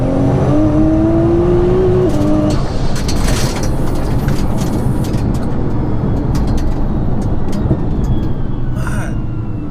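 A 1100bhp Nissan GTR engine roars at full throttle, a loud sustained drone with a rising whine early on and steady wind and road rush throughout.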